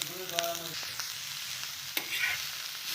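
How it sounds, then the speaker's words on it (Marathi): Onion and grated coconut fry in oil, a soft steady sizzle with a few clinks and scrapes of stirring, no talking. "कांदाही आपण लालसर असा भाजून घेणार आहोत"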